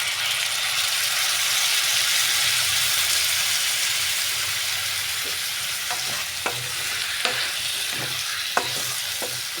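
Taro and spices with green chillies sautéing in a pan, a steady loud sizzle with scattered stirring scrapes and clinks toward the end.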